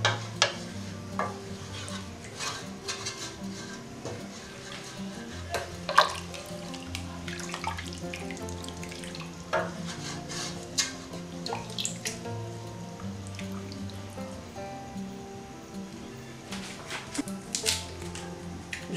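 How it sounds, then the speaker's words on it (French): Water poured into a cooking pot over toasted peanut paste while preparing a Congolese dish, a steady running splash with clinks and stirring knocks throughout, moderately close. "Je mets maintenant l'eau pour la préparation."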